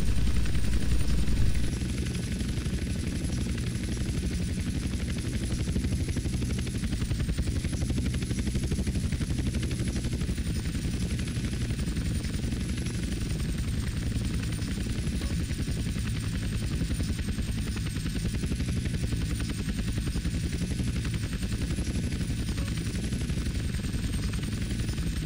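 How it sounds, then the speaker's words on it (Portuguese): A helicopter setting down during a flight school challenge in GTA San Andreas Definitive Edition, with a continuous loud rotor thrum and engine drone that holds steady throughout and has no speech over it. "Agora eu tenho que fazer o inverso, eu tenho que pousar o helicóptero"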